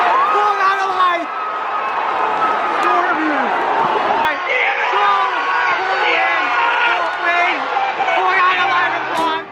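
Port Adelaide cheer squad at an AFL football game, a dense crowd roar full of cheering, whoops and chanting voices, loud and sustained throughout with babble layered in.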